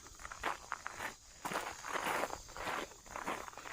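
Footsteps crunch on gravel on an outdoor nature walk, a near, steady rhythm of scuffing steps with no voices.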